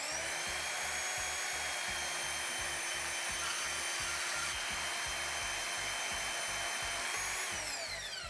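A power cutting tool whines steadily at high pitch while slicing through a 3-inch pipe on a truck, a continuous loud grinding hiss with a faint pulsing underneath, sustained without pause.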